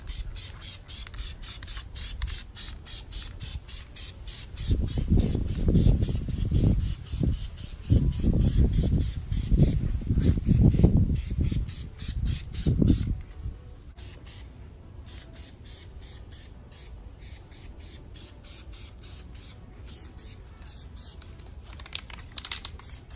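Spray paint hissing onto a Toyota Supra MKIV transmission in several bursts of steady aerosol spray, close and loud, separated by short gaps over a faint ticking background.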